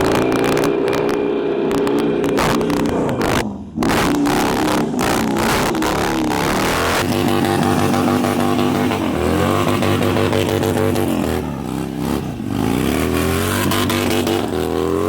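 A loud, close Harley-Davidson Sportster built as a 2025 project with a Thundermax unit revs and idles on a first ride, its engine note swelling and dropping in throttle blips and pulling away steadily with no talk over it.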